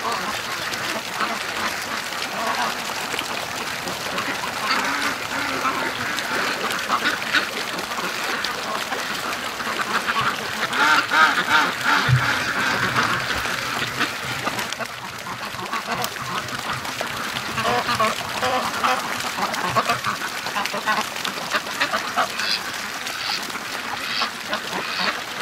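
Ducks quack and chatter on a swamp, a faint, continuous flock murmur that carries on for the whole stretch at a distance.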